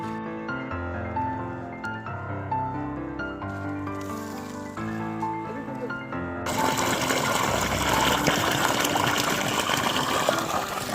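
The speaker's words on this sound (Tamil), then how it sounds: "நீ தண்ணி விழுகட்டு, கொஞ்ச நேரம் விழுகட்டு" Water gushes strongly and steadily from an irrigation pipe on a two-acre coconut farm, a loud continuous rush that fills the second half after a stretch of music.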